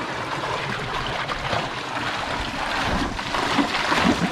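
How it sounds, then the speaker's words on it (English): Mountain water cascades tumble down a hillside in rural Portugal, a loud, continuous, close rush of flowing water with no break. "amazing cascades and the water coming down the hill"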